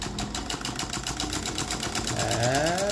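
A small solar-powered engine runs steadily up close, giving a rapid, even mechanical ticking and whirring that holds throughout with no pauses.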